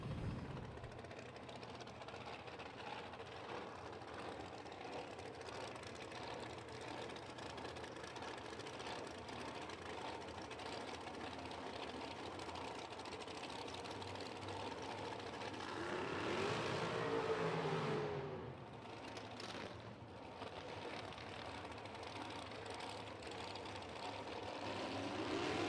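Top Dragster drag racing engines fire up and idle at a drag strip, a continuous low rumbling drone with a swelling rise in the middle, heard from some distance.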